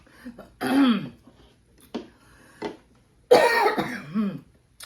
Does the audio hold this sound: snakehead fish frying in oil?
no